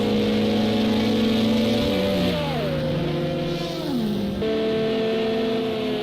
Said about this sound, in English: that's an LMP2 they're catching up to